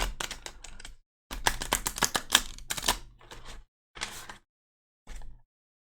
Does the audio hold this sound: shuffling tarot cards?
yes